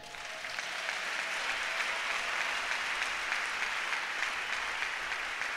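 A church congregation breaks into steady, sustained applause, a dense wash of many hands clapping that swells at the start and holds evenly, heard from within the room.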